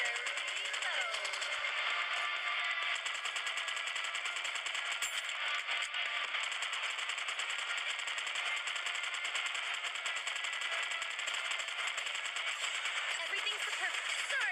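Rapid, continuous machine-gun fire from the Nikke Goddess of Victory video game, dense rattling bursts throughout with game voice lines over it.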